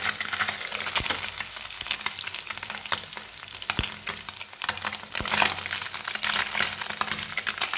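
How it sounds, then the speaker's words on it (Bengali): Kachki fish fries in oil with a steady crackling sizzle punctuated by sharp pops and spits, close and moderately loud, with no speech. "আরও ভাজা হচ্ছে"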